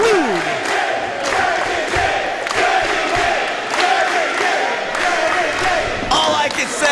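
A wrestling crowd at a Dragon Gate USA show roars and cheers wildly in sustained waves, with sharp slams and thuds from the ring cutting through and an announcer's voice talking over the noise.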